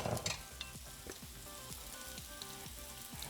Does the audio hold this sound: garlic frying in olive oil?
yes